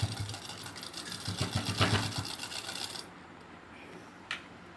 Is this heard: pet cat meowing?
no